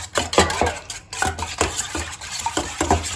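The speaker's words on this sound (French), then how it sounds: "on reprend notre saladier, on met nos 3 œufs, on mélange nos œufs" Three eggs are whisked in a salad bowl, the utensil clinking and tapping rhythmically against the bowl in quick strokes, close and clear with no talking.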